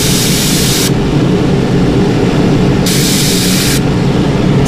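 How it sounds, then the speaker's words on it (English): Airbrush spraying paint through a stencil while painting a burbot fishing-lure pattern, a steady loud close hiss that runs throughout, with brief changes in tone as the spray is adjusted. "get your airbrush closer to the stencil than we did on the other one, and hit it at a 90 degree angle"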